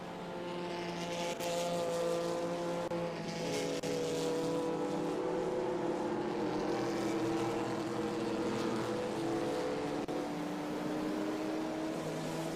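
Vintage American muscle cars, a Mustang among them, racing at the Indianapolis Brickyard in an SVRA feature race: a loud, sustained engine drone with shifting pitch as cars pass, and no talking.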